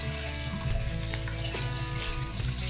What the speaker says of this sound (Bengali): আমি হালকা তেলে ডিমটা ভেজে নেব।